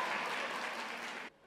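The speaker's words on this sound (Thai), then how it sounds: "ปรบมือขอบคุณพระเจ้านะครับ" Audience applause in a Thai church gathering, a dense, sustained clapping from a crowd that cuts off abruptly near the end.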